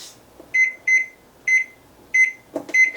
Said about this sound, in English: Set the timer for 15 minutes.